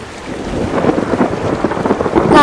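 Cartoon rain pours steadily with rumbling thunder rolling through, loud and close, with no voices.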